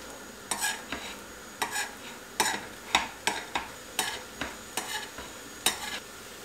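Turkish kunefe cooking in a pan over medium-low heat, being turned and stirred: a quiet sizzle under repeated scraping and tapping strokes of a utensil against the pan, irregular and close, with no talking.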